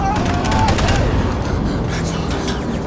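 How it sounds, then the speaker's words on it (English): Heavy gunfire in the Wolfenstein II: The New Colossus trailer, a loud, dense barrage of shots and booms with a voice speaking over the start. "You shoot good, Max!"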